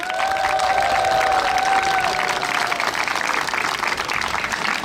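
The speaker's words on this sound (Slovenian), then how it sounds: "Ta aplavz." A crowd applauding loudly and continuously, with some cheering mixed into the sustained clapping.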